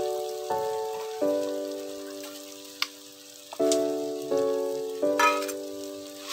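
Dried fish frying with tomatoes in a ghee-coated pan, a crackling sizzle broken by several sustained tonal bursts and sharp clicks, fairly close and moderately loud.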